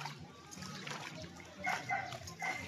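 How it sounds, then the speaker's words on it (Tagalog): A child playing in water, with a few light splashes and trickles rising out of a steady outdoor background, the clearest bursts coming near the end. "bata naglalaro sa tubig"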